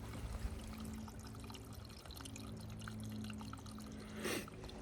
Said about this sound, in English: this little micro waterfall is so cool